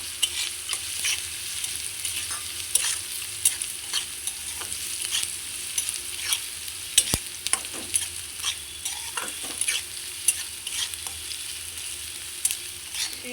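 Peanuts fried with mustard seeds in a pan for a leftover-chapati chivda, a soft sizzle under frequent scraping stirs and light clicks of nuts against the pan, close and rhythmic with no talk.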